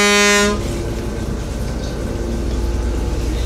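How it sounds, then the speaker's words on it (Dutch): A yacht's horn gives one loud, close, tonal blast of about half a second, and then the boat's engine rumbles on steadily underneath. "Mooi even toeteren."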